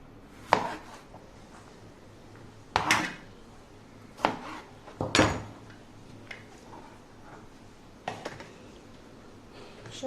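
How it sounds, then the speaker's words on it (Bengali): Snake gourd cut with a knife on a board: six sharp, separate chops fall at uneven intervals, each a crisp woody knock over a quiet kitchen background. "আমি ছুরি দিয়ে কাটতে ভালো লাগে, সেই জন্য ছুরি দিয়ে কাটাকুটা করি"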